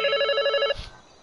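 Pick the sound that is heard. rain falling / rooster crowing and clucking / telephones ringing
telephones ringing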